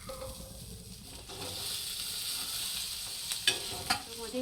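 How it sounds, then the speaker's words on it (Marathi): Onion and tomato masala roasts in a pan for an egg curry, making a low continuous sizzle with a couple of brief spatula clicks near the end, with no voices. "हे आता कांदा टोमॅटो नरम होईपर्यंत चांगलं भाजून घेणार आहे मी"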